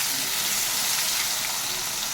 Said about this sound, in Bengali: তেলের মধ্যে সবার আগে আলু দিয়ে দিচ্ছি